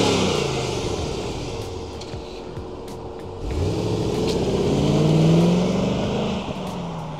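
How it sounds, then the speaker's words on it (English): A red 1994 Chevrolet Corvette convertible with a white soft top accelerates past on a flyby, its engine note rising loudly and swelling as it nears, then sweeping by and fading, with no voices. "red on red with white soft top Corvette doing its first flyby"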